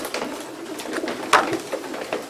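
Racing pigeons coo softly inside a breeding loft, the low murmuring calls close and quiet with one slightly louder coo midway and no talking.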